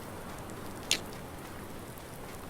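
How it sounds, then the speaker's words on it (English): Steady rain falls on a farm in the early morning dark, a soft continuous hiss with one brief sharper drop or tap standing out, with no talking. "Maybe it'll quit frickin' raining"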